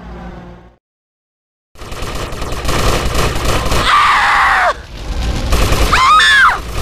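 Bursts of game gunfire and explosive booms in GTA Vice City Stories, loud and continuous for several seconds after a brief silence, with layered chaotic effects.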